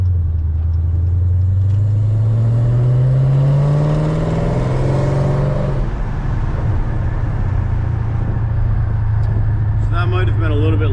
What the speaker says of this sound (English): So see if I can get a little quick acceleration right here on this road.